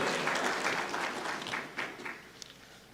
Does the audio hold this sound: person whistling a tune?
no